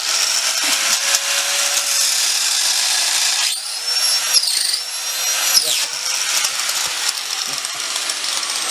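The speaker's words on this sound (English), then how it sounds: "I was just praising your longevity grinder, and it sounds like you're about ready to throw in the towel." A worn-out Longevity grinder runs with a high whining drone, its pitch wavering and dipping as it slips under load, close and loud with no talk.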